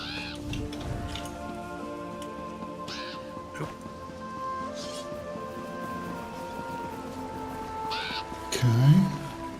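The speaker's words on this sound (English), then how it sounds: "Who's the crow in the inn?" A crow caws a few times inside an inn in Elder Scrolls Online, fairly soft and mixed with ambient game tones and background noise.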